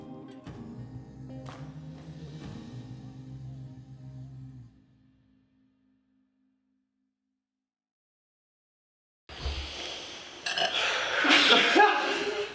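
A woman lets out a burp during a surf film about pro surfers, a low rumbling eruption lasting a few seconds near the start, followed by silence and then loud broadband noise.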